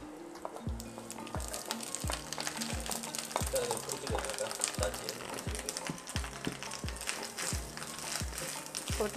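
Grated coconut roasts with chicken in a pan for chicken sukka, with steady sizzling and frying, a loose crackle, and regular scraping stirs throughout.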